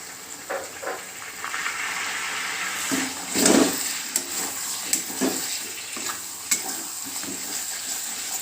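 Chilli chicken tossed in soy sauce and dark soy sauce sizzles steadily in a pan. Repeated stirring scrapes run through it, with a brief, louder wet bubbling burst near the middle.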